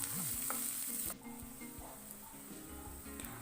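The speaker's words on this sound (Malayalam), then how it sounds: "ഇനി ഇത് നന്നായിട്ടൊന്ന് മൊരിയിച്ചെടുക്കാം" Chopped shallots fry in a pan until crisp: a bright, close sizzle at first that drops to a softer, steady crackle beneath background music.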